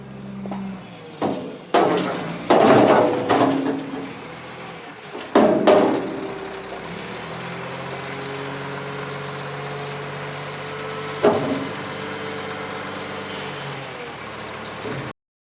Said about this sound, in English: G for garbage truck.